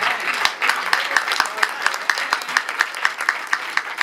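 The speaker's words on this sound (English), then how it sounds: "That's a reason to applaud." Audience applause at a packed public library Black History Month event on a Saturday night, dense steady clapping close and loud throughout.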